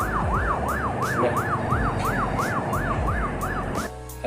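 A wailing ambulance siren sweeps up and down in a fast, regular yelp pattern, loud and close, cutting off abruptly at the end.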